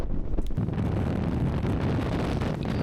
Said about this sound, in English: The wind is so strong that even Bob is gonna struggle.